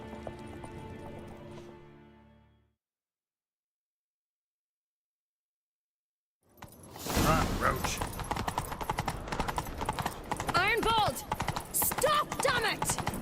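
Galloping horse hooves in The Witcher 3: Wild Hunt clatter in a rapid, loud rhythm after a few seconds of silence, with a busy game soundtrack and voices mixed in.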